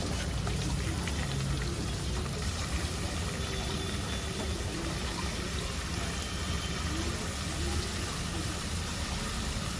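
Chopped tomatoes dropped into a pan of frying onions while cooking fish curry, giving a loud, continuous sizzle that holds steady throughout with no pauses.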